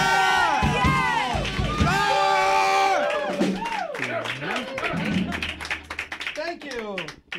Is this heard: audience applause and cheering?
yes